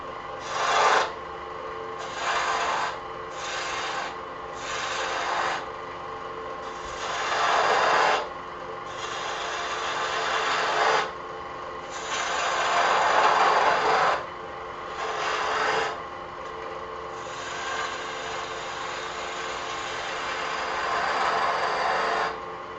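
A woodturning tool cuts into a spinning wooden baby rattle on a lathe to shape its ends, giving bursts of rasping, scraping contact separated by short pauses.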